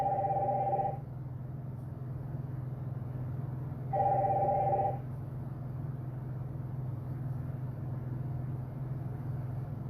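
A telephone rings twice with incoming calls, two electronic ring bursts about four seconds apart over a steady low hum, fairly loud and close, with no speech.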